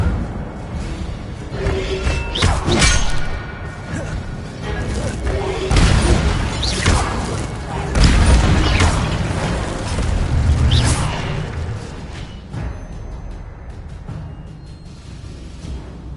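Incendio fire spell blasts cast in Hogwarts Legacy, thick roaring bursts with crackling, whooshing impacts that swell and fade repeatedly over a constant noisy game backdrop.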